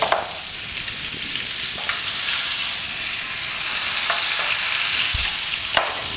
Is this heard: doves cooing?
no